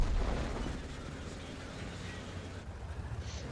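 A tank gun in World of Tanks fires a single booming shot at the very start, its blast fading into a steady low rumble of engine and battlefield noise that fills the rest of the moment.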